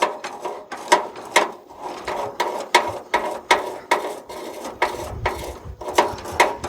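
A knob turned by hand on an old tractor opens its radiator grill vents, giving a close, steady series of about fifteen sharp ratcheting clicks, with a faint low rumble beneath.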